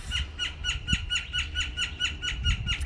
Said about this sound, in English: You hear that? That's why. Because the birds love to eat the seeds.